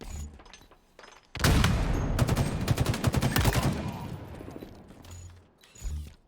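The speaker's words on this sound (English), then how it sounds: "Ordinary using that sniper rifle to some great effect" Rapid bursts of gunfire in the Halo video game, including sniper rifle shots, loud and dense in the middle and quieter before and after, with occasional sharp booms.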